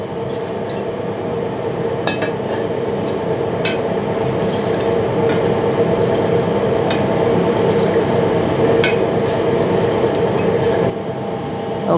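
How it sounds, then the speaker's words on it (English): Cooking oil with garlic bubbles and sizzles hot in a pan on a gas stove, a steady close fizzing hiss with scattered small pops throughout, no talking. "and then you can see the oil getting hot, right?"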